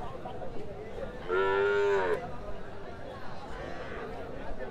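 Cattle at a busy cattle market give one clear, close moo midway, surrounded by a murmur of crowd chatter and background voices.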